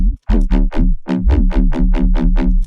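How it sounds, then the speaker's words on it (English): A synth passed through a disperser distortion effect plays about ten rapid, punchy, squishy-sounding notes in a steady rhythm, loud and dry, with no voices. "Let's do a disperser. Can maybe add some nice squishiness to the sound."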